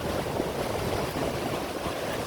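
Fast water rushes down the East Race Waterway on the St. Joe River in South Bend, Indiana, where gates regulate its speed; a steady, loud, close roar with no talk.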